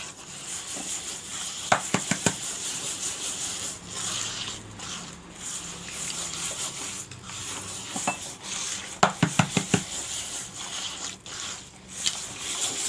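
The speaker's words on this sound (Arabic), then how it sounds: "أما دابا هنا ثلاثة البيضات، نخلطو حتى تندمج العناصر" Three eggs are whisked in a bowl with soft swirling and bursts of rapid utensil clicks against the bowl's side, faint and close with short pauses between.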